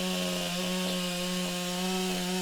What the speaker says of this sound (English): as Sam Bellamy, the chainsaw technician, knows what to do with one of those, and a nice 2 clean cuts it is